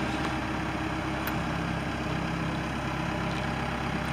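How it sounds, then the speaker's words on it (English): A 4-cylinder 110-horsepower Cummins turbo diesel in a 2007 LULL 944E-42 telescopic forklift with 3,500 hours idles, a steady, even low rumble held close and unchanging throughout. "turbo diesel engine"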